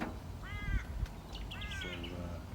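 Wild birds call outdoors at a free campsite, with two or three bright, rasping caw-like calls and a lower call trailing off, fairly close and clear over soft background noise.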